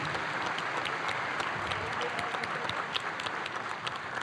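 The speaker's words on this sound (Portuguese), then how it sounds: "uma salva de palmas para esses dois professores" Audience applause at a university graduation ceremony for a physical education and sports school, a dense, steady patter of many hands clapping for a few seconds with faint crowd murmur beneath.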